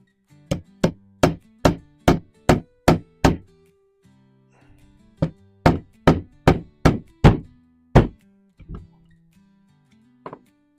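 Sharp hammer taps on a punch driving a pin through a Knight Revolution .50 caliber muzzleloader: a quick run of about seven evenly spaced knocks, a pause, then another series of eight and a few softer trailing taps, close and alone.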